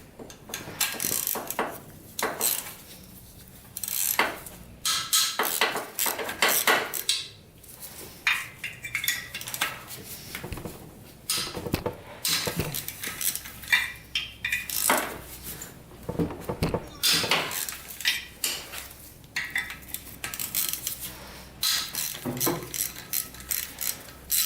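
A wrench works loose the six head nuts on a junk ATV engine, a long run of close metallic ratcheting clicks and clanks of tools against metal, steady and busy with brief pauses.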